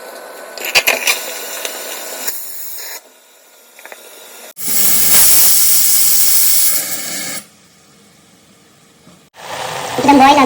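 A pressure cooker holding marinated chicken gives off loud bursts of hissing steam, one long blast in the middle and another starting at the end, with quieter stretches and some voices between.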